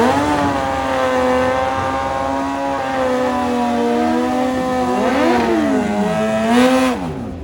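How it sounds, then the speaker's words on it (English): Two modern performance flagship motorcycles, a Suzuki Hayabusa and a Kawasaki, rev loudly and close by, engine pitch holding steady then swooping up and down in a couple of throttle blips, with no talk. "This is the modern Suzuki Hayabusa and Kawasaki CX-14, two performance flagship motorcycles."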